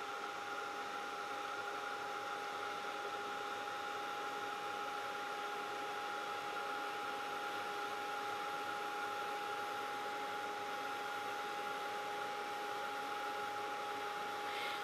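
A dryer blows hot air steadily over a freshly coated vintage frame, a constant faint whirring hiss with a steady whine that holds unchanged throughout, with no voices.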